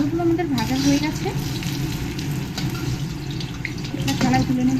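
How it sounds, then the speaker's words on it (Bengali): Potato pieces seasoned with salt and turmeric fry in hot oil for a desi chicken curry, giving a steady close sizzle while a person talks over it. "আলুগুলো আমাদের ভাজা হয়ে গেছে,"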